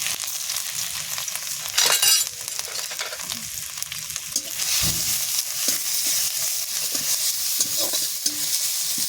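Grated radish stir-fried with dried chilli and black cumin in a hot pan, a continuous close sizzle broken by repeated scraping stirs and a brief loud clatter of the spatula.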